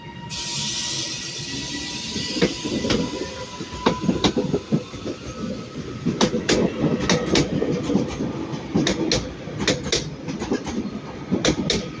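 TransPennine Express class 397 unit 397011 rolls through Manchester Piccadilly on a service to Manchester Airport, its low rumble joined by a steady series of sharp wheel clicks over rail joints, close and continuous, with no voices.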